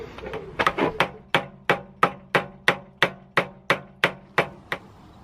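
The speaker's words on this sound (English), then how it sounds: "And I might need to give that a tap with the hammer." A hammer strikes metal in a steady series of about a dozen sharp, ringing taps, evenly spaced and close, tapping a greased polyurethane bushing sleeve into place on a BMW E60, with no talking.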